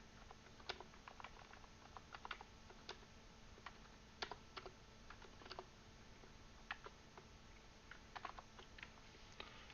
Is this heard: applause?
no